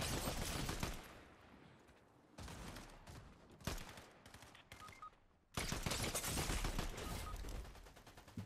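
Heavy bursts of video game gunfire in a battle royale match with crowns at stake, loud dense volleys in three long stretches separated by quieter gaps, with a few sharp single cracks.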